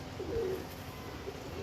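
A Salara pigeon gives a brief, faint coo near the start, with low background rumble and no speech.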